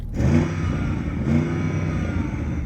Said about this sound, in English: RSQ8, rev up your engine.